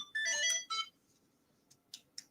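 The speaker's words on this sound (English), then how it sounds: "Sorry, phone's ringing." A phone ringtone chimes in a couple of bright melodic bursts, then fainter tones trail off, heard alone at moderate distance.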